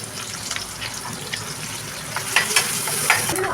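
Onions and green chillies fry in hot oil in a kadai for pasta, a steady close hiss with scattered crackles and light stirring scrapes, with no talking.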